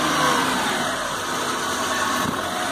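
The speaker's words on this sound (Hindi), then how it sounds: "देख सकते हैं इंजन बहुत स्मूथ है, जो गाड़ी है परफेक्ट हो चुकी है।" A Maruti 800 car engine idles smoothly and steadily after a cylinder head overhaul, a continuous close mechanical hum with no misfires or jerks.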